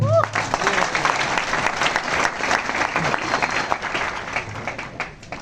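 An audience claps in a lively burst, with sharp individual hand claps over a crowd background and a voice speaking at the start.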